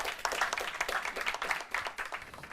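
An audience at a university law competition claps in steady, moderately distant applause that stays even throughout.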